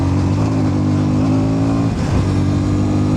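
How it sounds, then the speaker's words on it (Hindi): KTM Duke 160 motorcycle engine heard while riding, a loud, steady mid-pitched drone with a brief dip and change in tone near the end, no voices. "बहुत रिफाइंड इंजन है ये, किसी भी तरीके से"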